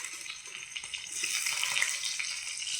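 Onions, green chilies and cumin fry in a hot pan with a soft, steady sizzle that swells slightly louder partway through, with no voices.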